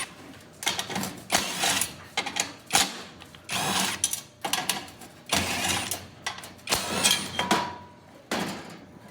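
Screwdriver backing six screws out of a convection fan bracket on an Austroflamm/Rika pellet stove, giving a series of close scraping, ratcheting bursts with short metallic clicks between pauses, no voices.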